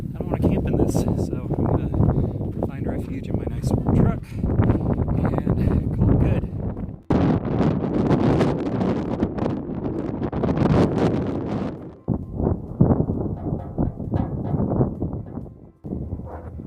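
Strong gusts on an Arizona desert trail buffet the microphone in long roaring surges with abrupt breaks, loud and close, while a person talks over the wind.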